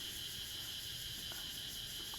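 A dense, constant high-pitched insect drone of crickets and cicadas at a resort in Mukdahan, Thailand, steady and unbroken throughout, with no voices.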